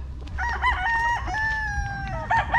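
A rooster crows loudly and close by in a long drawn-out call, with clucking chickens around it.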